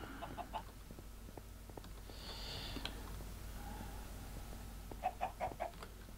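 Several chickens in Minecraft cluck in short bursts, a quick series of clucks at the start and another run near the end, over a low steady hum.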